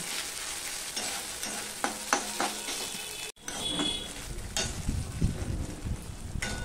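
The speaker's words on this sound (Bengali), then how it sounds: "আদার কাঁচা গন্ধটা যতক্ষণ চলে যাবে ততক্ষণ পর্যন্ত আমি এটা একটুখানি কষিয়ে নেব" Ginger is stir-fried in a pan with a lively sizzle, punctuated by scraping strokes of a spatula and a brief pause midway.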